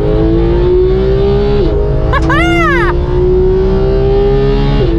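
A Porsche 991 GT3 Gen 2 engine drones loud and steady while lapping the Silverstone Grand Prix circuit, with its pitch climbing and dipping through gear changes and a brief higher whine in the middle.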